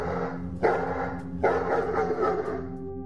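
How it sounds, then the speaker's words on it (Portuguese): A dog barks twice, close and fairly loud, the second bark trailing into a longer yelping tail over a steady low hum. "deixe que os latidos do além guiem você para onde a luz não alcança"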